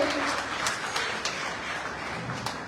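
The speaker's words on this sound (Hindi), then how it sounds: "एक बार जोरदार तालियां इन बच्चों के लिए।" An audience at a school prize ceremony claps for children receiving awards, a steady, fairly close patter of many hands that carries on without pause and without talk.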